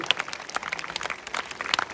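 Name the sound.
audience applause for the drama performers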